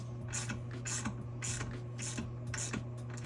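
Quiet, repeated ratcheting clicks come from a wrench snugging the bolts on a toilet's base seal. Several short bursts repeat in a steady rhythm over a constant low hum.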